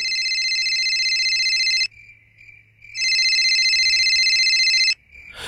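A phone rings in a loud electronic tone, two long bursts separated by a brief pause, with quiet background noise.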